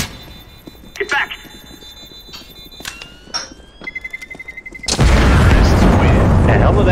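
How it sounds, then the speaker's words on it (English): Gunfire in a VR shooter game pops in several sharp bursts among voices, then a loud sustained roar of blasts fills the last two seconds. "The hell did that gun shoot at me from?"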